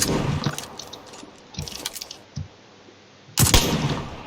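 Gunfire in the battle royale game PUBG Lite on the Erangel map: a few separated sharp shots and short bursts, moderately loud, with quieter game ambience between them.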